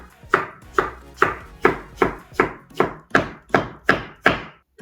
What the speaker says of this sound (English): Slice the zucchini.